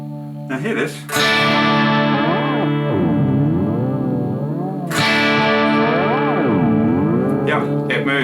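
Electric guitar played through analog Lance Amplification Aerial and Bondi Effects pedals, loud sustained chords with a warbling, wavering chorus-like modulation, two strong strums ringing out and swelling, distorted and echoing.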